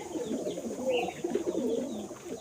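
Pigeons coo softly and continuously close by, a low, rolling murmur of overlapping calls with no talking.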